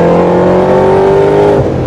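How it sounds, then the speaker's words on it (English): A Ford GT40 with a 740-horsepower V8 roars loud and close, a sustained booming engine note that holds high and then drops as the revs fall off near the end, heard on a hot lap. "big, booming V8 sound."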